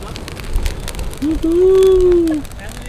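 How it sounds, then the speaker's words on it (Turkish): A large campfire burns at a camp on the Ercuva plateau, crackling and popping steadily up close, while a sustained voice-like tone rises briefly in the middle. "Kamp ateşini yaktık."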